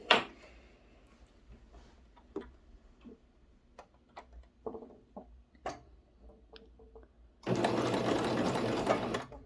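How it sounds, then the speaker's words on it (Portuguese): A sewing machine stitches in a full closed circle around a double-sided sousplat cover, with quiet ticking and handling sounds first, then a steady loud whirring run near the end. "E bora costurar ao redor todinho."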